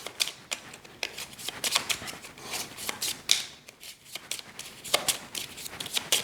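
A deck of board game cards being shuffled for a solo game, quick papery riffles and flicks repeating in bursts at close range with no talking.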